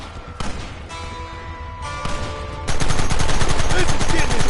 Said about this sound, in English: There they are! Open fire!